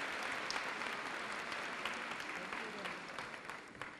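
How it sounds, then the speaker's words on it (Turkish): A crowd at a Turkish folk dance competition claps steadily throughout, a dense patter of applause at moderate distance, with some voices mixed in. "Birlikte alkışlıyoruz."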